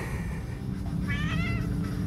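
A single cat meows once, clear and close, over a steady low background hum.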